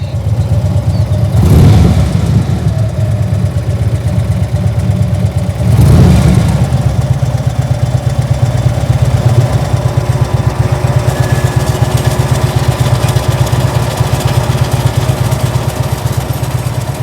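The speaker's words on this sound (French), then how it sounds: "et voilà, les motos" Motorcycle engines idle and rumble continuously close by, with two louder revving surges early on.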